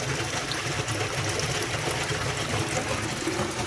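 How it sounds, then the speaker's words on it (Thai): Water runs and patters steadily into a tank of raw water during alum dosing for water treatment, a continuous close wash of dripping and trickling with no pauses. "นี่ครับลักษณะคล้ายๆน้ำหยดแบบนี้ครับ"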